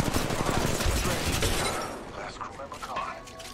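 Sustained automatic gunfire in a Valorant round, a dense loud burst for about two seconds that then fades into quieter scattered shots and game effects.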